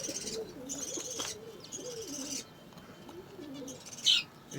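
Diamond doves coo softly in a small rooftop aviary colony, their low repeated calls mixed with higher bird chirps and twitters nearby.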